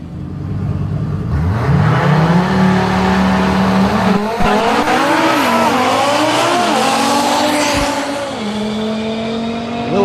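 On a drag racing track, a race car accelerates hard, its loud engine revving up through rising gear pulls and shifts and then holding a high, close roar before easing near the end.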